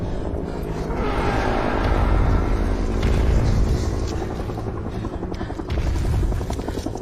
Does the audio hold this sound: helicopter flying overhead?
yes